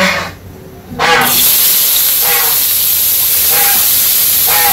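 A sudden loud sizzle erupts as banana flowers hit hot oil in a wok, then a steady hiss continues, broken by a few brief clinks.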